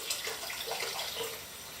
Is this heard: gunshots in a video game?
no